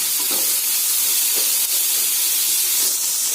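Chopped teasel gourd sizzles and hisses loudly in a pan as its water steams off, a dense continuous frying roar with faint stirring bumps and no voices.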